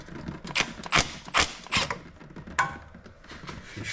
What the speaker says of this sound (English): So if I start to loosen off these 2,